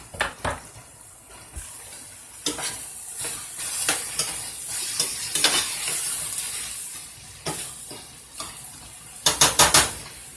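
Sauce for steak tacos sizzles steadily as it reduces in a skillet while a utensil scrapes and clinks against the pan in irregular stirring strokes, close and moderately loud.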